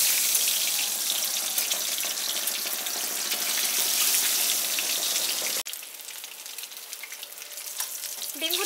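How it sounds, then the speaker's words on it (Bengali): Eggs fry lightly in hot oil, seasoned with turmeric and salt, giving a steady loud sizzle that breaks off sharply midway, then returns more thinly with a faint clink near the end. "খুব হালকা করে আমি ডিমগুলো ফ্রাই করে নিচ্ছি।"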